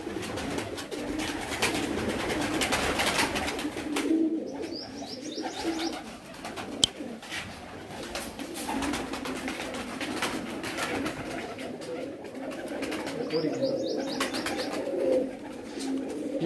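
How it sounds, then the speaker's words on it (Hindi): Egyptian pigeons coo on a rooftop in Mochh, Mianwali, low repeated throaty calls rising and falling over a soft outdoor background, with faint chirps and a single sharp tap midway. "ये जी जुवेद भाई का मिस्र कबूतर है जी माशाल्लाह जी"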